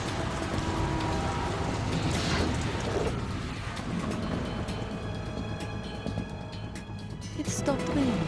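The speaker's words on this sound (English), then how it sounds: "It stopped raining." Steady rain hisses through a stretch of Metal Gear Solid 2 gameplay, a broadband wash that holds evenly across the whole span with low rumble beneath and occasional brief tonal accents.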